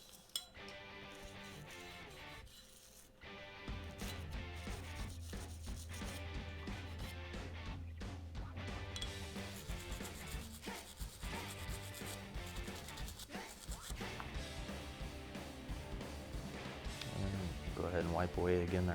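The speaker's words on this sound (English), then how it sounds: "We're just going to use our bristle brush. Try and break some of this stuff free." A bristle brush scrubs the slide rails of a Glock 21 Gen4 pistol coated with CLP, giving a steady scratchy rubbing with faint clinks, under a voice.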